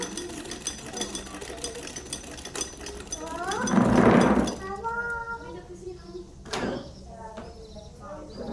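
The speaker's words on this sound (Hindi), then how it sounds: "पूरे नेफे की सिलाई इसी तरह करेंगे।" A sewing machine stitches along the waistband of a shalwar, a steady mechanical whir rising to a louder burst near the middle, with a person talking over it before and after.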